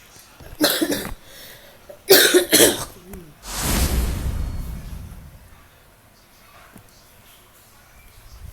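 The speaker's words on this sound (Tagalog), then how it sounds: "May ubo ako guys, sorry." Several harsh coughs in quick bursts, close to the mic, followed by a longer rough throat-clearing exhale, then quiet.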